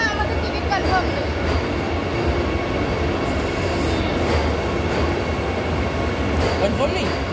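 An Indian passenger train rolls along with a steady, loud roar of wheels on rails, faint squeals and clatter running continuously throughout.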